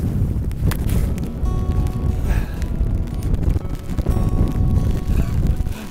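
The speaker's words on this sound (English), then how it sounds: "Quite windy." Strong wind buffeting the microphone on a wet golf course at Wexham Park, a continuous loud roaring rumble with gusty surges and no talk.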